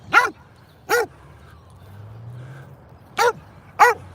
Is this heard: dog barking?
yes